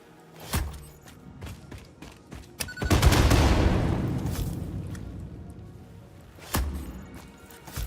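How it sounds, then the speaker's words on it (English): In the video game Satisfactory, bombs blow up rocks: scattered sharp blasts, then a big rumbling explosion that slowly fades over several seconds, and a final loud blast near the end. "Blow all this junk up so it's out of the way."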